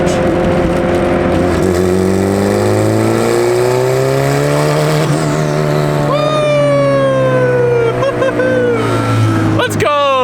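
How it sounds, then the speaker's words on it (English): A turbocharged Honda engine with a big turbo kit accelerates hard under boost, its droning note climbing through the gears with a rising turbo whistle, loud and close, while people shout excitedly over it. "I can hear that turbo."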